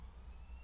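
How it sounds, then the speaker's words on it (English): Emergency vehicle siren outside, a faint wailing tone under low background hum, distant and steady for a moment. "Excuse the siren."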